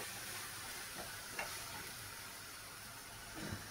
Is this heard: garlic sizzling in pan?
yes